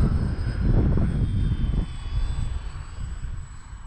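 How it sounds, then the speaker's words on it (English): An X-Fly Twin Nova 1400mm twin-motor RC plane flies in gusty crosswind, its loud motor drone and wind rush strongest early, then fading as it passes. "But this is an xfly plane,"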